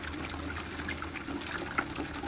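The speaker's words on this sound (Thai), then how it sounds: "วันนี้ก็ลองใส่น้ำบาดาลใหม่นะคะ" Well water pouring steadily into a container, a continuous close splashing gush with no pauses or voices.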